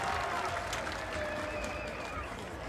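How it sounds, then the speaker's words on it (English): Crowd cheering for BMX rider Niek Kimmann at a UCI BMX Racing World Cup round, a fairly faint, continuous wash of cheers and clapping from a distance with some voices mixed in. "listens to the crowd go wild for Niek Kimmann"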